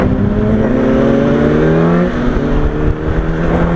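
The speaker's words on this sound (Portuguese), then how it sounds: "O barulho de moto hoje tá rápido." A Yamaha R1 sport motorcycle rides along a road on the way to work. Its engine drones loud and close with a steady harmonic whine that climbs and shifts as the revs change, mixed with wind rush and no talk.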